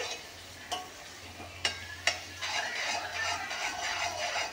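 Grated carrots being stirred in a hot pan: a spatula scrapes the pan in a few sharp knocks, then keeps scraping in quick, continuous strokes over a soft sizzle, close by with no talking.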